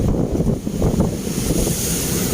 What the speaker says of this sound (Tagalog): Yan, yan naman malalakas na alon